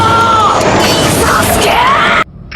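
Men in the Berserk anime yell at each other, loud strained shouting that fills the scene continuously before cutting off abruptly into near silence.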